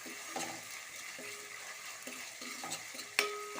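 Ginger garlic paste sizzling in a pan while being stirred, a low frying hiss under intermittent scraping and clinking of a spoon against metal, close and fairly quiet, with a sharper clank near the end.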